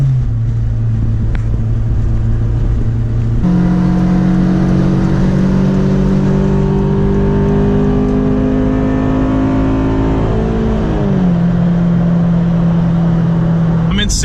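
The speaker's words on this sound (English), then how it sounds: "As I'm accelerating, I take my foot off the gas." Honda Civic Si engine accelerating in sixth gear with a hesitation fault, a steady loud harmonic drone that steps up in pitch, climbs gradually, then drops back, continuous throughout.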